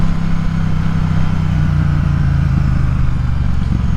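A Triumph Bonneville Speedmaster motorcycle engine runs nearby, a loud, steady low rumble with an even throb that holds without a break.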